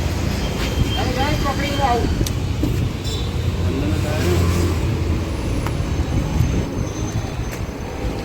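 A Tata Intra V20 SC pickup truck's engine runs steadily nearby with a constant low drone, while people talk over it.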